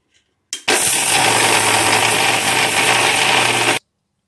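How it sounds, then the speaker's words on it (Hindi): Roasted flax seeds being ground to powder in a kitchen grinder, which starts abruptly and runs as a loud, steady whir with a rattling edge for about three seconds before cutting off sharply. "भूनने के बाद इसे पीसने के लिए हम डाल लेंगे इस ग्राइंड कर लेंगे"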